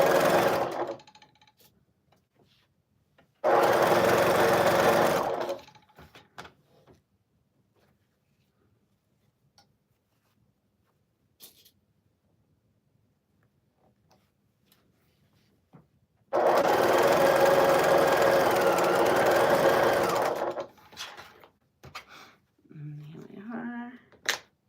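An electric sewing machine stitching quilt pieces for a table runner, two steady, loud whirring runs of a few seconds each separated by quiet stretches, with faint sounds between them and a brief voice near the end.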